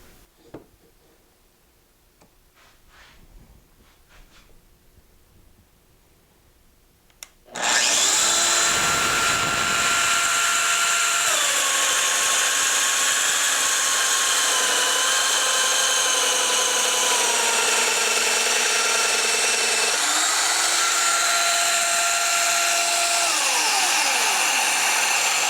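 A Festool Domino XL DF 700 joiner, fitted with a 27 mm dust extraction hose, bores a mortise in wood. After a few seconds of quiet handling it starts up with a loud, close, steady motor whine that runs to the end, its pitch shifting as the cutter plunges.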